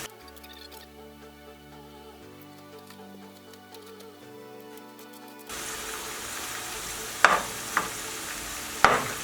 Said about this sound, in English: So all we're doing is literally just pre-frying and coating the chips